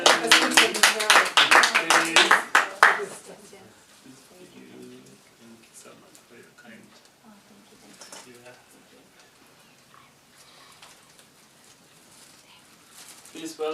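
Audience clapping at a Buddhist teaching event with Lama Ahbay Rinpoche, a loud burst of dense applause lasting about three seconds before fading into quiet room murmur.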